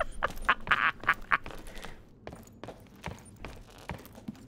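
Duck calls from the hunting game Call of the Wild, a run of quick nasal quacks in the first half and then a few scattered squawks, fairly close and clear over faint game ambience.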